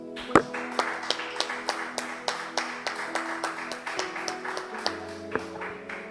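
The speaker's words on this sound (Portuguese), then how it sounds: "vamos aplaudir ao nosso Deus" A sparse church congregation claps in a steady, fairly even rhythm, each clap sharp and distinct, with a faint hum of sustained tones underneath.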